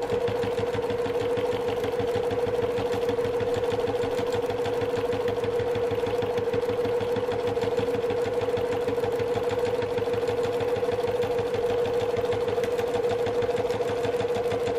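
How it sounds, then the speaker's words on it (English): A sewing machine stitches slowly through four stacked bags and a layer of fabric, a steady close mechanical hum with a rapid even needle rhythm that runs unbroken the whole time. "Now I'm stitching through 4 bags and then the fabric."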